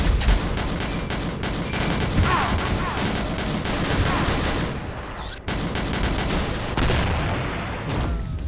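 A God Guardian gun in the game XSHOT fires in rapid, dense volleys with brief pauses, loud and close in a Team Deathmatch match.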